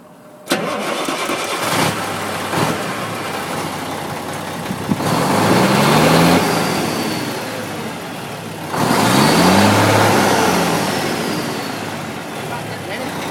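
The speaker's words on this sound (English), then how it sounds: "can you start the engine again?" A very high-mileage truck, close to a million miles, cranks and fires up, then idles roughly and is revved twice in strong swells, loud and close, with brief voices around it.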